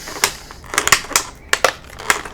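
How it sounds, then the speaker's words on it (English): A Star Wars trading card package is bent and peeled open by hand, a series of sharp crinkly plastic cracks and tearing snaps spaced irregularly, close and fairly loud with no talk. "So I'll probably actually bend it down here and peel it."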